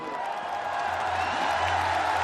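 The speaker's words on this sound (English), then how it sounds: "the crowd is excited" An excited arena crowd roars at a Pride martial arts event, a steady wash of cheering and whooping that swells slightly toward the end, with no voices standing out.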